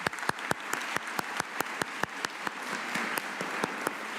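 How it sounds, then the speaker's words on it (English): Applause from a crowd at a Penn State Brandywine fall commencement ceremony, with a steady wash of clapping and sharp nearby claps repeating at a regular rhythm throughout. "Let's give them a round of applause."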